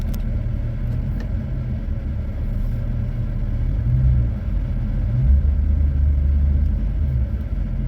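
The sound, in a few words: 2006 Chevrolet Avalanche engine running, put in reverse gear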